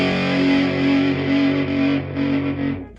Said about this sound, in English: That's what it sounds like with this fuzz on it, which is kind of nice.